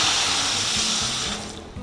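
Chicken broth pours into a pan of Moroccan couscous with cooked garlic, a steady close hiss and splash that tapers off near the end.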